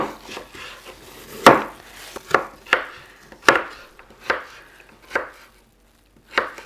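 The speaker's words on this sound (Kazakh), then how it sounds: "Енді сәбізін тураймыз." A knife chops carrots on a cutting board with sharp, irregularly spaced thuds, about nine distinct cuts, loud and close, with no one speaking.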